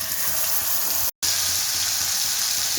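Green chilli and garlic paste hit hot oil for tempering in a Bengali fish curry, giving a loud, continuous close sizzle that breaks off sharply for an instant, then resumes at full strength.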